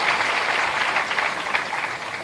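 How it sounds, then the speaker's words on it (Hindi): Loud, sustained applause from a large crowd for legislators at a government event in Jabalpur, a dense wash of clapping holding steady throughout with no talk over it. "सभी विधायकगण के लिए जोरदार तालियां आप सबकी सहभागी बने।"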